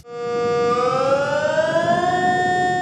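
Civil defense alarm siren in Switzerland during the nationwide siren test, a single loud steady tone that rises slightly in pitch and holds for about three seconds.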